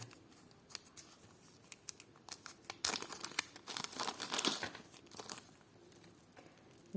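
Quiet rustling and crinkling of a small plastic bag being handled, scattered soft crackles building to a busier burst in the middle, close by.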